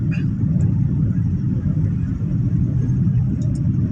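A Yanmar YM357A tractor engine running at a steady idle, a loud continuous low rumble close by without revving, with faint voices now and then.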